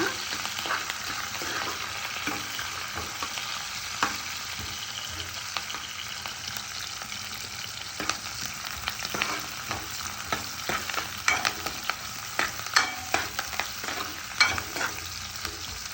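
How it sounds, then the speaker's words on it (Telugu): Onion and curry leaves frying with popping mustard seeds in hot oil, a steady dense sizzle with scattered crackles and occasional spoon scrapes over sixteen seconds, no voices. "ఆవాలు చిట్లంగానే ఈ విధంగా ఆనియన్ కరివేపాకు వేసి బాగా ఫ్రై చేసుకోవాలన్నమాట"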